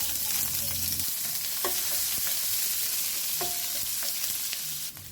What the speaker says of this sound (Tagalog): Gigisa na ako mga idol ng munggo. Oil. Sibuyas, bawang, luya.